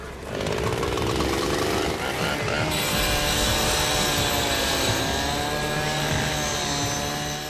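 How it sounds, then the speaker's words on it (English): Power cutting tools slice through the fuselage of a crashed aircraft, a loud, continuous harsh metallic grinding and whine that holds without a break, with a shift in pitch partway through. "We've got to cut away some of this fuselage."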